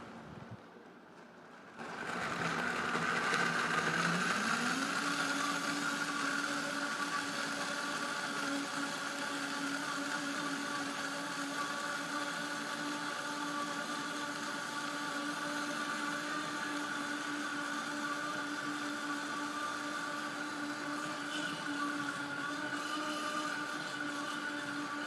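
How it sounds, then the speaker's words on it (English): A countertop blender with its lid on whirs through a very liquid mix in a weight-loss cooking-class kitchen. It starts after a short pause, rises in pitch, then holds a loud, steady motor drone for over twenty seconds, with no talking. "put the lid on the blender."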